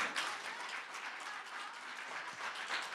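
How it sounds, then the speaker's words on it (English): An audience at an awards breakfast applauds, a steady, fairly faint patter of many hands clapping that continues evenly for the whole stretch. "A real round of applause, please"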